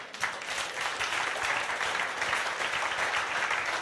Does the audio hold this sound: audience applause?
yes